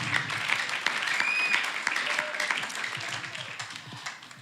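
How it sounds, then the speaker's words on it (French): Steady audience applause fills a hall at a modern gospel music talent show evening, dense clapping holding level throughout with no talk over it. "J'aimerais que la salle applaudisse encore pour Gédéon"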